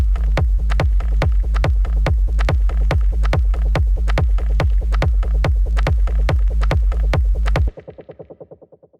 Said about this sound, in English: this vinyl noise and the low end sounds like this.